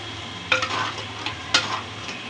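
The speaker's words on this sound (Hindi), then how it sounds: "और हम इसका मसाला भूनते जाएंगे साथ साथ।" Masala of tomato, onion and ginger-garlic paste sizzles in a pan for gourd kofta curry, with two distinct scraping stirs of a spoon over the soft frying hiss; no voices.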